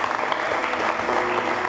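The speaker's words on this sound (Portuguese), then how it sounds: "Pode aplaudir a Jesus." A church congregation applauds, a dense, steady wash of clapping hands filling the room at fairly loud level for under two seconds, with no voices rising above it.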